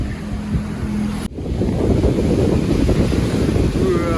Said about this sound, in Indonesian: Ombaknya lagi gede, teman-teman.